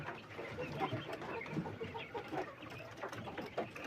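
Chickens clucking steadily at moderate volume, with busy farmyard background noise and no voices.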